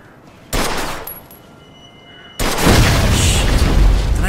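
Gunfire aimed at a car's gas tank in Mafia 2 Definitive Edition on PS4: a loud burst of shots, a short lull, then a heavier sustained roar of fire or blast close up.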